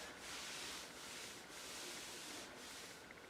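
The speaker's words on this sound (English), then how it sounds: "Rub your thighs a little bit." Hands rubbing back and forth over the thighs in slow, steady strokes, a soft continuous friction swelling and easing roughly once a second, close and quiet with no talking.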